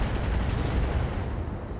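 Mech weapons firing on a target in the battle game RogueTech, a loud, dense continuous roar of gunfire and blasts filling the short burst.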